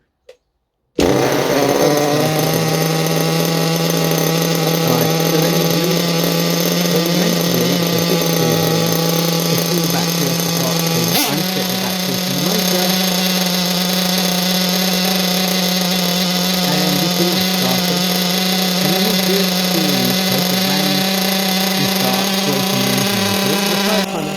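A Kyosho Inferno Neo 3.0 nitro RC car engine runs for a long stretch at a loud, steady high-pitched idle, shrill and buzzing, with a brief dip midway.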